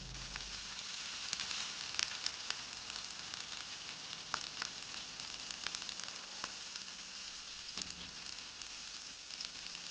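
Marinated green mussels fry in hot oil in Malabar style, giving a steady, close, crackling sizzle that runs unbroken throughout with scattered sharper pops and no voices.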